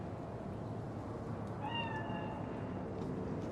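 In the video game Cyberpunk 2077, a single cat meows once, a brief tonal call heard at a distance over a steady, dense background rumble.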